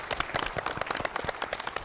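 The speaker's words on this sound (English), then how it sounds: "Guys, let's give them a round of applause" Applause from a studio audience for a team on a televised quiz show, a brief burst of dense clapping at moderate volume with no voices over it.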